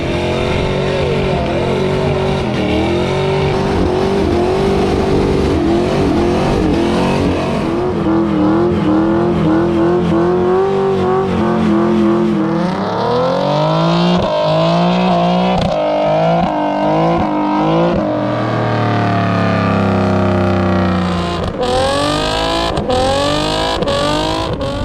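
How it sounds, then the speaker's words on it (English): At a drift event, a car holds a long burnout with the engine screaming and revving hard, pitch sweeping up and down through the gears for over twenty seconds, loud and close with no talking. "Burnouts."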